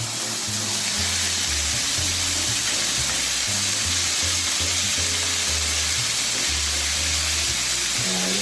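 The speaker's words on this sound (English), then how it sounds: "I am going to add my minced beef." Minced beef frying in a pan with fresh chili paste gives a loud, steady sizzle throughout, with no talking.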